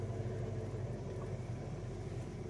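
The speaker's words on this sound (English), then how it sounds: "So I'm going to do a windows down test drive" Low, steady engine rumble and road noise from a 1966 Mustang GT coupe cruising with the windows down, a continuous moderate drone with no talking.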